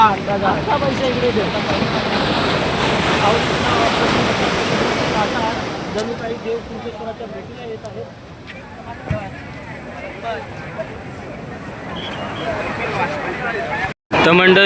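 Rough surf at Kunkeshwar rolls and crashes continuously, a loud broadband wash with wind noise buffeting the microphone, briefly cutting out near the end.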